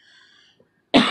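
A single sharp cough bursts out close up after a brief quiet moment, from a person recovering after a port placement procedure.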